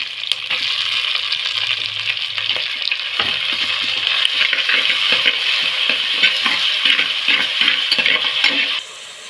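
Steady, loud sizzling of onions and garlic frying in hot oil, with frequent stirring scrapes and clinks from a utensil in the pan throughout.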